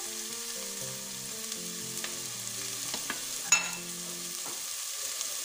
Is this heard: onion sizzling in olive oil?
yes